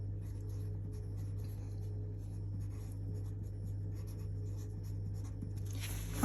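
A 3B pencil drawn across paper gives a steady, close, soft scratching that runs on without break, heard alone with nothing spoken.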